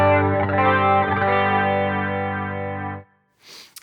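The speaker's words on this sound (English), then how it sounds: "So we got some trem, it's harmonic trem." Electric guitar through a driven 1964 Fender Pro amp patch with harmonic tremolo and chorus holds one rich sustained chord that wavers gently for about three seconds, then cuts off and leaves a brief hissy tail.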